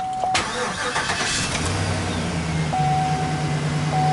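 A Chevy/GMC GMT-900 pickup with a newly replaced starter cranks briefly and fires, then settles into a steady idle with a low engine hum and a thin whine, loud and close.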